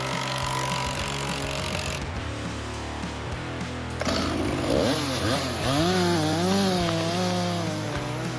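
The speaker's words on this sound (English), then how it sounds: "With each rotation of the chain, the saw glides through the rough bark, cutting deeper into the tough core of the wood." A big chainsaw cuts through the rough bark and tough core of a standing tree during felling. The loud, steady engine whine dips and lulls, then climbs into a strained, wavering rev as the chain bites deeper.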